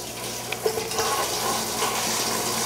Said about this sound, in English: We're gonna turn on the pump here. And we're gonna get a blast of water, maybe.